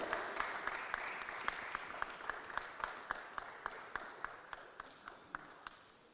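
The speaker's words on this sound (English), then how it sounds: "Can we have a big round of applause?" At a book unveiling for Dr. Shashi Tharoor's new book, a faint bed of crowd clapping runs throughout, with distinct, evenly spaced sharp claps standing out near the microphone.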